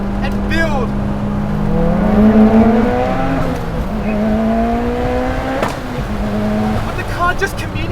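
A built Mitsubishi EVO X with a 2.2-litre stroker engine accelerates hard, its engine note climbing steadily in pitch through the gears with a brief shift break, loud and close, with engine noise underneath.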